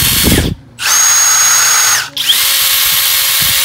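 Cordless drills, a Milwaukee M18 and a FLEX 24V, run in turn: a loud, steady high whine, a brief pause, another whine, and a second brief dip, then a quieter motor hum continues.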